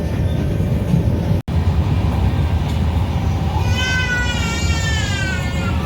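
A Tejas Express running at night near Lucknow after crossing the Ganga, with a loud, continuous rumble and clatter of wheels on rails, a brief dropout, then a rising squeal of wheels late in the run.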